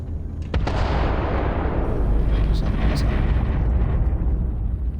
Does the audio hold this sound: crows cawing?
no